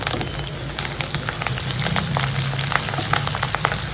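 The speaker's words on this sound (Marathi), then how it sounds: "आता हिरवी मिरची" Green chilies fry in hot oil with onion for a khichdi, giving a steady sizzle dotted with small crackling pops, fairly loud and close, with no talking.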